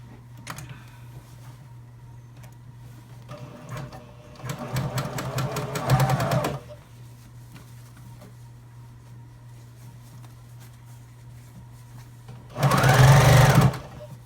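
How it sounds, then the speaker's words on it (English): A sewing machine top-stitches a fabric water bottle cover to secure its handles, running in two short whirring bursts separated by quiet pauses, with a faint steady hum in between. "And now I'm just going to give it a top stitch."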